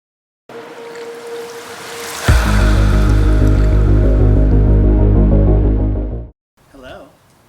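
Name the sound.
tea being poured into a bucket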